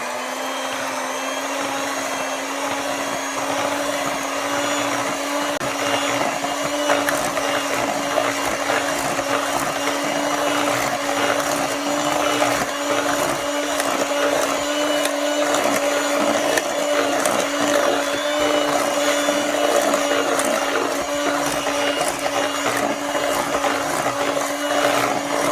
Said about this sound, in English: so now let's mix all this together